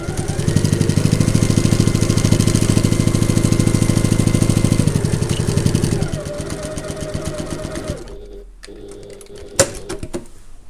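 Sewing machine stitching close to the edge of a fabric handbag, producing a fast, steady mechanical whirr of needle strokes for about six seconds, then slowing and stopping, followed by a few handling clicks.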